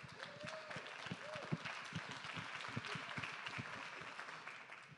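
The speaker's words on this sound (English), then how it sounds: "So give him an applause" An audience at a fan festival Q&A stage applauding, a steady wash of clapping with a few voices scattered through it, moderately distant.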